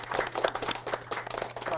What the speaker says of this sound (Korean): 수고하신 그 MC 분들한테 먼저 박수 부탁드리겠습니다